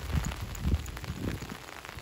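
Steady patter of raindrops tapping on a taut umbrella overhead in a forest, with soft irregular drips and low thumps, close and continuous.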